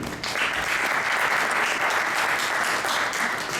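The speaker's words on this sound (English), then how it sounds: "Round of applause for Aaron." Continuous applause from a seated audience at a PropTech startup competition, many hands clapping evenly at a constant level as a speaker is introduced, with no voices on top.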